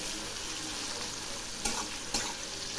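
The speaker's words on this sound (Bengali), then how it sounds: "এবার আমি মাছগুলো একটু নেড়ে দিচ্ছি" Steady crackling sizzle of prawns frying in hot oil, with a couple of brief scraping stirs near the end.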